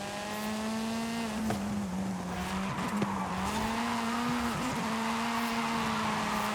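Tires squeal as a car drifts in the racing game Forza Horizon 5, with a steady engine drone that rises and falls under a long continuous skid, close and fairly loud, with no talking.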